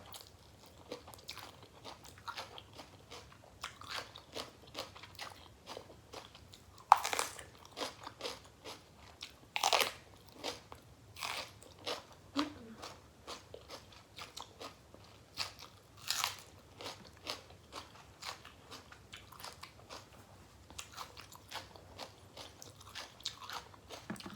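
Steamed mussels with spicy sauce and rice noodles are eaten close up, with soft intermittent chewing, slurping and crunchy bites, plus a few louder clicks and scrapes.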